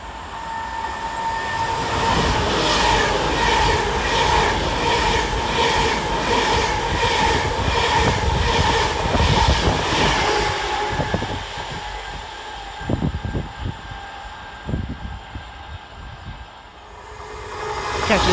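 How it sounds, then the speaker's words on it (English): An Avanti West Coast Class 390 train passes through a station at speed, its loud sustained rumble and rhythmic wheel clatter filling the air before easing into quieter rail noise and squeals. "Coming the other way for Avanti West Coast is 390 103, working 1 Romeo 21 from Manchester Piccadilly to London Euston."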